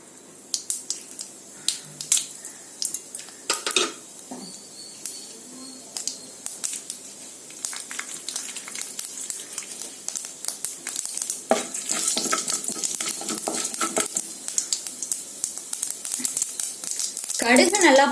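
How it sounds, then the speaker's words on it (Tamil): Mustard seeds and urad dal spluttering in hot oil for a tempering of sundal, sharp scattered pops and crackles building into a denser sizzle toward the end. "எண்ணெய் நல்லா சூடானதும் இதுல 1 டேபிள் ஸ்பூன் கடுகு உளுந்தம் பருப்பு சேர்த்துக்கலாம்."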